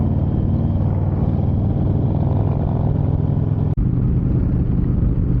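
A group of about thirty Harley-Davidson motorcycles pulls onto Interstate 10 near Fort Hancock, Texas, with a steady, loud rumble of V-twin engines that holds throughout and breaks once for a brief moment.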